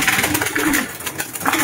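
Close, soft cooing of pigeons kept by a fancier, several low murmuring calls overlapping in quick succession.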